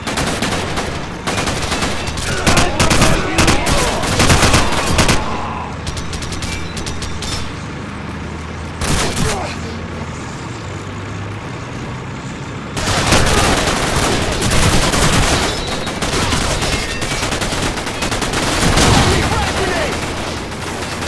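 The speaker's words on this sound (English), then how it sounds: "Suppressing fire!" Automatic gunfire in Call of Duty 4: Modern Warfare alpha build, loud sustained bursts of rapid shots with a lull in the middle, plus battlefield rumble and shouted voices.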